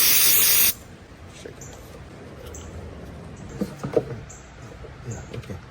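A can of airflow sensor cleaner gives one short, loud, bright hiss of spray lasting under a second during engine coolant thermostat housing work, then quiet faint clicks and handling noises follow.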